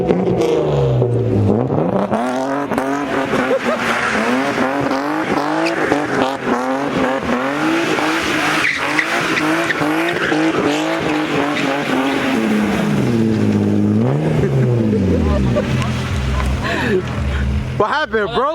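A BMW M3 drifts at a street takeover, its engine revving hard while the tires squeal in long wavering howls close by, with people shouting and talking over the noise.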